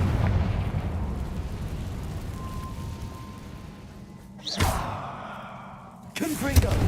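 Confringo spell bursting in Hogwarts Legacy, two loud explosive blasts a second and a half apart, each a sharp rising whoosh into a boom, after a stretch of quieter ambient rumble.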